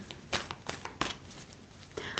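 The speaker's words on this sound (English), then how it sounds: "let me just do the shuffle here." Tarot or oracle cards are shuffled by hand at close range, a quick series of soft riffling slaps and snaps in irregular bursts.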